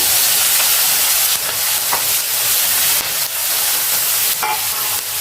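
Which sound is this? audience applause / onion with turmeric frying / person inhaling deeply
onion with turmeric frying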